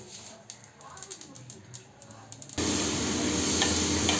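Chow mein with chicken, egg, beans, carrot and cabbage stir-frying in a pan, a soft scraping stir at first that jumps to a loud, steady sizzle for the second half.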